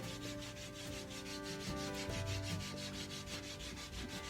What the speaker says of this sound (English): And then we'll want to make sure we give it a good sand.